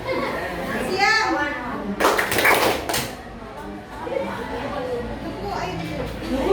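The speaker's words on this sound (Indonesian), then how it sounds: "Tepuk ayo." Children clap their hands in rhythm in a classroom clapping game, a dense burst of claps standing out amid children's chanting voices.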